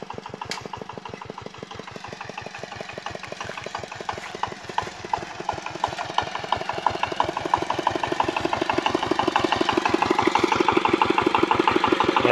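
A Zubr 8 hp walk-behind tractor pulling a converted horse-drawn plough through a potato field in autumn, its single-cylinder engine chugging in a steady, rapid beat that grows louder and harder-working over the stretch, close up with no talk.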